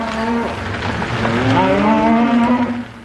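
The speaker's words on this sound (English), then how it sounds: "Cows bellowing, calves bawling in a noisy chorus." Herd of Angus cattle on a ranch near Sheridan, Montana, cows bellowing and calves bawling in an overlapping loud chorus, several long moos close by.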